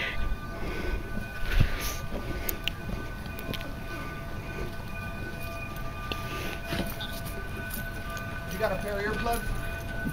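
A Cumbres and Toltec narrow-gauge train approaches with rumbling, clattering wheels and faint whistle-like tones, building to a louder pass near the end while people nearby talk now and then.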